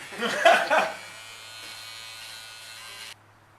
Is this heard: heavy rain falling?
no